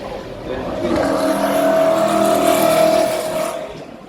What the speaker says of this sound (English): Hard on the W196, which was that Formula 1 car from 1954-55.